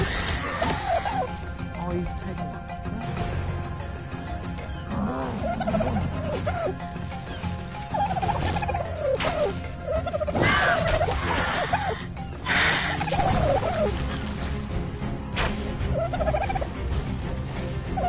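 Turkey-like gobbling from a bird in the survival game Ark Survival Evolved, repeated calls rising over steady game noise, with a player talking throughout.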